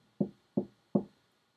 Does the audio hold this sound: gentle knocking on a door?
yes